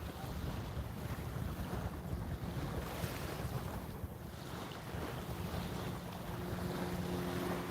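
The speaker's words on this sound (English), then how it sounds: "It's definitely windier today." Strong wind buffets the microphone on a boat fishing at sea, a steady rushing roar over waves and water with low rumbling gusts throughout, close and loud, with no talking.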